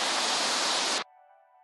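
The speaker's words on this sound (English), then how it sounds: "So wouldn't mind having like a little bit of white noise" Broadband white noise hiss layered subtly into a music track, steady and fairly loud for about a second before cutting off, leaving a quiet sustained tonal pad alone.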